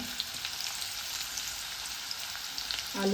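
Onion, ginger and garlic crushed in a mortar sautéing in a pan for a masala, a steady soft sizzle throughout, faint and close, with a stir clatter at the end.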